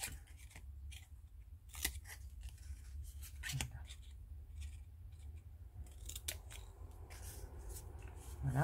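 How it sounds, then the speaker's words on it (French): Scissors snip repeatedly through material while crafting a pen pot from a creative kit, with irregular crisp cuts close to the microphone over a low background hum. "Là, je coupe."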